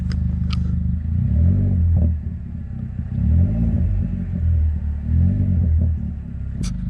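A Chevy car engine idles just after starting, following a spark plug replacement, with a steady low rumble, its revs rising and falling in a few gentle swells, with small clicks at the start and end.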